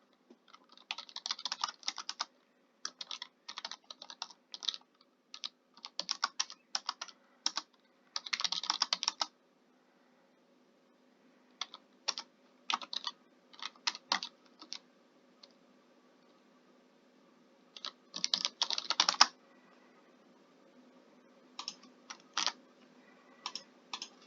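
Someone types text into a slide on a computer keyboard, producing clustered bursts of quick, close key clicks separated by pauses, quiet and clear against a faint background hum, with no speech.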